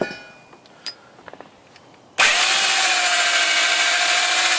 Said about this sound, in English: We got to go to an even bigger drill bit.